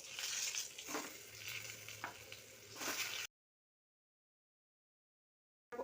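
Spices, including chilli powder, are stirred in a hot pan for sweet potato paratha filling, a close sizzle with a few scraping strokes for about three seconds before the sound cuts to silence.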